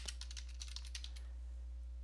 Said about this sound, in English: And now you want to type in power options.